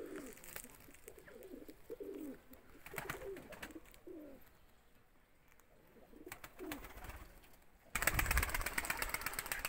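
Tumbler pigeons coo in a pigeon loft, with soft, repeated throaty coos close by over a steady background hum, ending in a louder burst of rustling noise.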